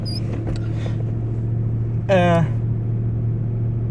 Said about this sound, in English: never sit in it too much when it's idling high